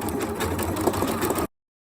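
Janome sewing machine stitching appliqué bunting flags, a steady close whirring run of fast stitches that stops abruptly, followed by silence.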